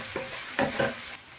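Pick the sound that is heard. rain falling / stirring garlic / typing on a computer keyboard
stirring garlic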